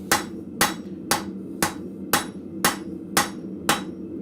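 A blacksmith's hammer strikes steel on an anvil at a forge, eight sharp ringing blows at an even steady rhythm, loud and close, with a low background hum between strikes.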